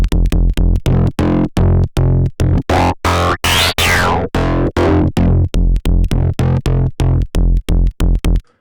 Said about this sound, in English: use the sub and do a bit of FM to that sine wave